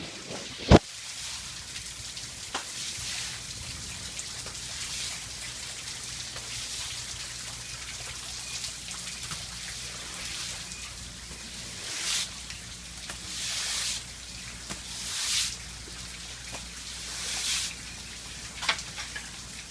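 Rain pours steadily onto an iPhone, making a continuous hiss of drops with louder gusting swells of downpour and occasional sharp taps close to the device.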